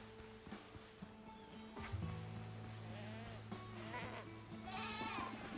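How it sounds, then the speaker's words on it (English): Goats bleat repeatedly in the Windrose pirate video game, several wavering cries near and mid-distance over a low steady drone, with a brief lull between calls. "Freaking goats."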